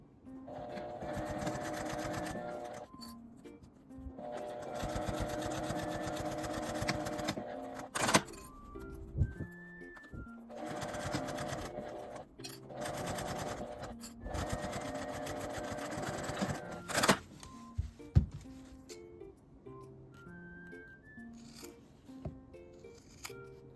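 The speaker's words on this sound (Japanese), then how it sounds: "1センチの縫い代で縫います。" Sewing machine running in long bursts as it stitches a square box pouch with a 1 cm seam allowance, steady whirring runs broken by short pauses and faint handling clicks, no talking.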